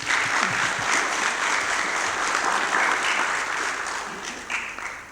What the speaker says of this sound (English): So please, can you give them a round of applause?